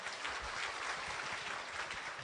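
An audience at a morning office assembly applauds a visiting lecturer: a steady, even patter of many hands clapping together, fairly soft and continuous with no talking.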